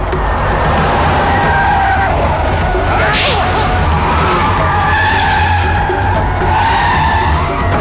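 A car engine roars and tyres skid loudly through the whole stretch, with rising revving sweeps, in a crowded street scene beside a sweet shop with milk.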